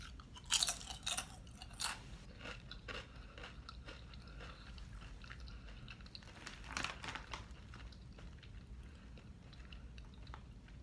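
Close, crisp crunching and chewing of Lays Flaming Hot Dill Pickle chips, with a burst of loud bites early on, then steady quieter mastication and a second crunchy flurry midway.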